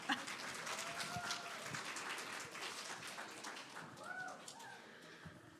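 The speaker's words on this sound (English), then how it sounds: "We're a congregation that claps, so you can clap" A synagogue congregation claps during Shabbat services, a moderate, somewhat distant patter of hands with a few sharper claps and faint background sounds.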